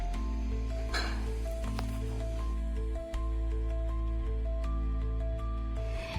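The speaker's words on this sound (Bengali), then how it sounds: "সমস্ত কিছু দিয়ে আবারও চালটাকে খুব ভালো করে ফ্রাই করে নিচ্ছি" Vegetable fried rice frying in a pan gives a steady sizzle. A spatula or spoon occasionally clinks against the metal as it is stirred over a constant low hum, close up and with no voices.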